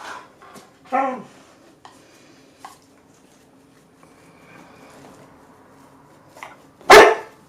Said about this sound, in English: You're hearing my service dog, Ember, who's yelling at me